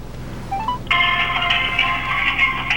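A mobile phone rings with a steady electronic ringtone that starts after a few short rising tones and then holds at a constant level, close and clear with no voices over it.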